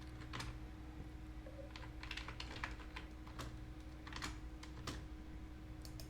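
Rapid keystrokes on a computer keyboard, quiet and close, with irregular bursts of clicks while a message is typed, over a faint steady hum.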